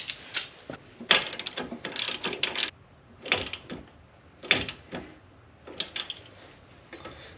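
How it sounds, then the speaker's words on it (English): A ratchet with a 17 mm deep socket tightening a coilover nut on a 2004 GTO, heard up close as bursts of rapid metallic clicking separated by short pauses, with no talk. "17 millimeter deep socket would be better off"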